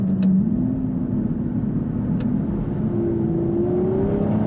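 A 2016 Aston Martin V12 Vantage S with a 5.9-litre V12, accelerating in Sport mode, gives a loud, steady engine drone from inside the car, its pitch climbing gradually.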